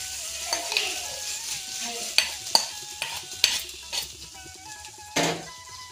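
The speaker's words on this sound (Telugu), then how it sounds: "ఓకే, ఇంకా మనం ముందుగా రెడీ చేసి పెట్టుకున్న గోంగూర పచ్చడిలో తాలింపు అయితే కలిపేద్దాం." Tempering being stirred into gongura chutney, a spoon scraping and clinking against the vessel with several sharp knocks over a soft background sizzle, close by and with no talk.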